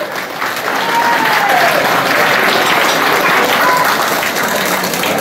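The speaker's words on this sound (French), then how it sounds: "Applaudissez-la." Sustained audience applause at a gala opening for the guest of honour, Madame Thu Thuy, steady and fairly loud throughout with a faint voice briefly rising over the clapping.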